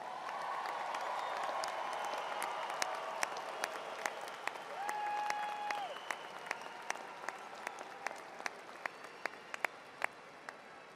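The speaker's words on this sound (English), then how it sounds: "let's give our graduates another round of applause" Graduates receive a steady round of applause from the audience at an evening university commencement ceremony, a dense patter of clapping that thins toward the end, with a brief voice or tone heard midway.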